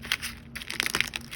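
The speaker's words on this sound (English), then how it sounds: "So again, just smashing it." A spoon crushing hard-boiled eggs for a silver-oxidizing bath gives a close, continuous crunching and crackling of shells for about a second and a half, with no voices.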